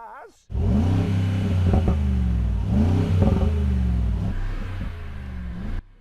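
A luxury SUV engine, likely a Mercedes-AMG G63 or Rolls-Royce Cullinan, revs up in repeated surges, rising and falling in pitch with a deep rumble, loud and close, over a steady idle.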